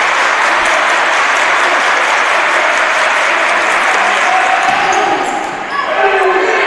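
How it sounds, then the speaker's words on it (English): Crowd at a men's college volleyball match during a do-or-die fifth set cheering and applauding loudly and continuously, with a sustained roar that dips briefly near the end before swelling again. "Listen to the crowd now."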